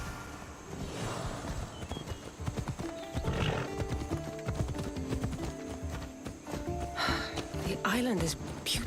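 A horse ridden at a walk in Assassin's Creed Odyssey, clip-clopping hooves with a whinny, heard under characters talking and background music.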